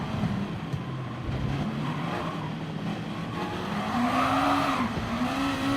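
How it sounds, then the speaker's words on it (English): A race car in Gran Turismo Sport at Barcelona slides on the rear with squealing tyres while the engine revs as power goes down, steady and loud, with a rising whine near the end. "Big slide on the rear as I try and get the power down"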